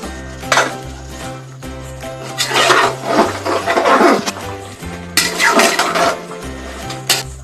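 Village-style mutton curry masala stirred in a pot, a spoon scraping and clanking against the metal in bursts of rhythmic stirring, close and fairly loud, with short pauses between strokes.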